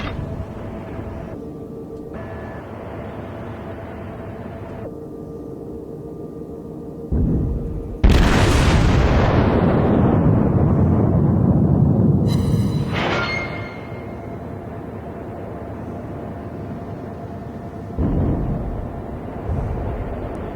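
In the World of Warships video game, a Wyoming-class battleship exchanges naval gunfire, with deep booming salvos and a long rumbling explosion roar that swells and fades over a low engine hum, with no talk.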